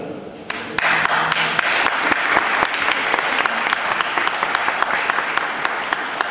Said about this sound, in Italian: questo tentativo d'applauso un po' mi incoraggia